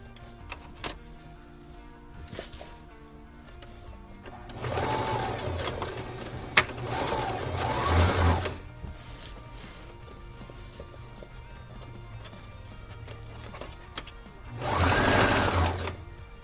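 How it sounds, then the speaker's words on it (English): A sewing machine stitches fabric cut from an old curtain while a costume with a V-neck opening is made, running in two steady whirring bursts of several seconds each, close and clear with quieter handling noise in between. "I'm gonna go ahead and sew that down as well and make a V-neck opening in the front"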